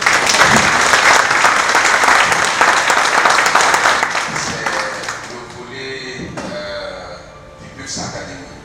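Loud, dense clapping from a large seminar audience that gradually thins and fades, with a few voices and stray claps near the end.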